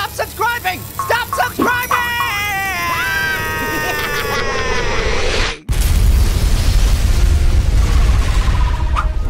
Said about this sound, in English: Gonna detonate these 12 million sticks of TNT!